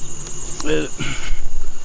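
Honey bees crowd a hive frame with a steady, high buzzing drone, and a brief voice cuts in midway.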